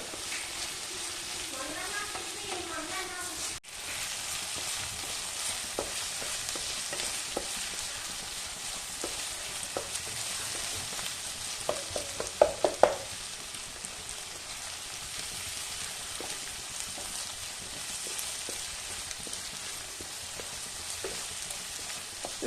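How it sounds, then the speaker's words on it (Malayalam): Onions sauté with fried paneer in a pan for a chilli butter paneer curry, a continuous crackling sizzle with irregular spoon scrapes and clicks, a brief voice at the start, then a thicker burst of stirring midway. "പനീർ ഫ്രൈ ചെയ്ത് പാനിനകത്ത് തന്നെയാണ് ഇതെടുക്കുന്നത്, ഉള്ളിയൊക്കെ വഴറ്റി എടുക്കുന്നത്."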